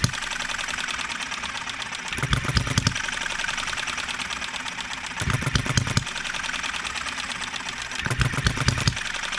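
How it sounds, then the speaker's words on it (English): An Enjomor 6cc hit and miss model engine runs on a cart with a steady fast mechanical chatter, broken every few seconds by heavier firing bursts that pulse through the idle rhythm, close and alone. "It's a very simple, easy starting engine."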